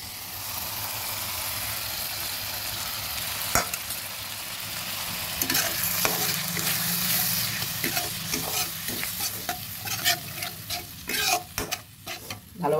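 Yogurt whisked with cumin and coriander powder goes into a katla fish curry pan over low heat and is stirred, giving a loud continuous sizzle and frying hiss broken by brisk scraping strokes of a spoon.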